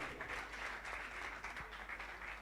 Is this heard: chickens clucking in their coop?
no